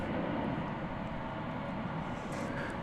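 A Boeing 777-200 airliner, thirteen years in service, passing at DFW Airport, a steady broadband engine roar and rushing air held at constant loudness for a few seconds.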